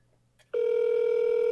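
Telephone ringback tone on an outgoing call, a steady electronic tone starting abruptly after a brief quiet and holding on continuously, close and clear.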